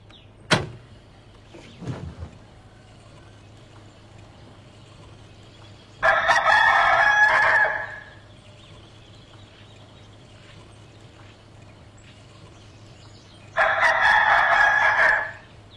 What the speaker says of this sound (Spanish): Nunca escuché un kikiriki más lindo, Napoleón.